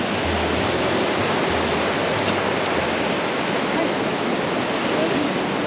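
Ocean waves wash onto the shore at a beach on the Sunshine Coast, a steady, dense roar of surf that fills the whole stretch without a break.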